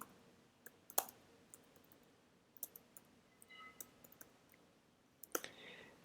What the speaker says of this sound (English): I'm going to type these in.